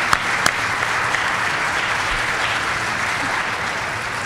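Audience applause fills a legislative chamber during a session, a steady dense clapping that holds at an even level throughout with a couple of sharper claps near the start.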